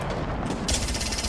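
Rapid automatic gunfire in a competitive battle royale shooter match, a dense continuous burst of shots that grows louder and harsher partway through, heard alone without voices.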